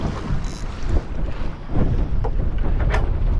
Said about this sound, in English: it's blowy this morning